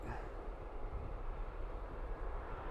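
Ryanair airliner at Dublin Airport, a steady low broadband engine roar with a continuous rumble, moderately distant and even in level throughout.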